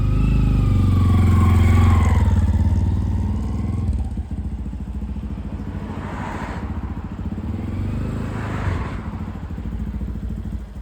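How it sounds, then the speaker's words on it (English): A small Honda Monkey motorcycle engine runs on a test ride, loud and rumbling at first, then settling into a steady, slightly rough drone that swells and eases a few times. "give this little monkey bike a test ride"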